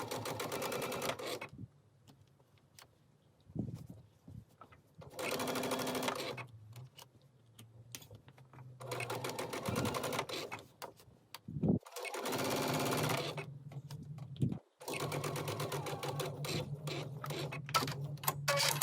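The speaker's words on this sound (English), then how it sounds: "And now it's ready for us to do our top stitching along that folded edge." A sewing machine top-stitches along the folded edge of quilt fabric, running in several separate bursts of rapid whirring over a steady low motor hum, with quiet pauses in between.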